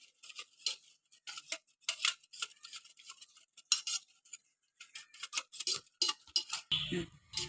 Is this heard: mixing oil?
yes